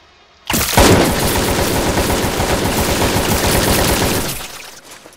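AKM rifle fire in a Roblox gore game comes as a loud, sustained automatic burst lasting about four seconds, a dense rattling stream of shots that tails off into quiet.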